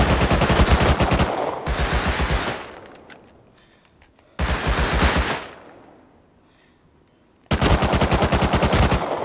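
Automatic gunfire rattles in the video game Rust, three long loud bursts of rapid shots separated by quieter gaps with fading echoes, with no talking.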